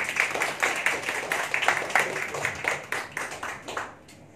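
A crowd claps warmly at a Thai wedding procession, the applause dense and steady with rhythmic swells, then gradually thinning out and fading toward the end.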